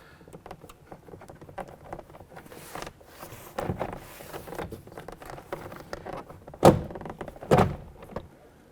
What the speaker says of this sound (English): we now want to go ahead and lift the panel up and off of the window sill area